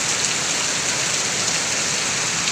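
Heavy rain pours down in a dense, steady hiss that stays loud and even throughout, with no voices.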